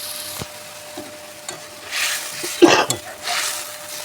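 Tomato paste sizzling in a hot pan while being stirred, with soft scraping and frying bursts swelling and fading, one sharp louder clatter midway, and a brief cough in the background.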